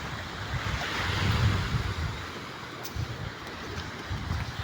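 Waves wash onto a beach at Lian, Batangas under steady wind, with a continuous roar that swells near the middle and gusts buffeting the microphone, and no voices.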